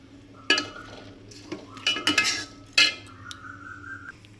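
Rice being gently stirred as it fries in a pan, with a few close scraping clinks of a spoon against the metal in short bursts over a faint background hiss.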